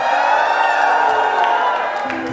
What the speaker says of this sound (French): Je peux te faire un cri de joie ce matin?